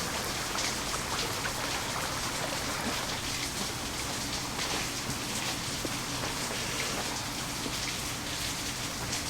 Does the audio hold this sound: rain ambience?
yes